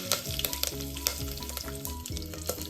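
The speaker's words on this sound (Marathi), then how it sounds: "जिरे फुलल्यानंतर मी ते ॲड करते आहे दहा ते पंधरा कढीपत्त्याची पाने त्यानंतर मी ते ॲड करते आहे एक हिरवी मिरची" Cumin, curry leaves and a green chilli crackling in hot oil for Maharashtrian masale bhat, a steady close sizzle with sharp pops throughout and background music playing along, no voices.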